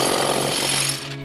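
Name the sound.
jackhammer breaking concrete slab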